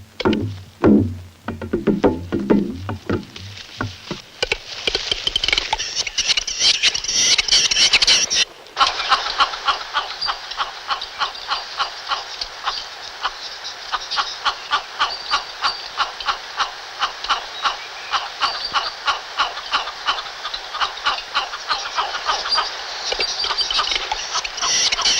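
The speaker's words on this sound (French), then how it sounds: "le véritable combat, empoignade terrible, cris gutturaux, violents coups d'aile" Male capercaillie fighting, with harsh guttural cries and violent wing beats, a dense, rapid, rattling flurry that runs on continuously after a short burst of lower calls at the start.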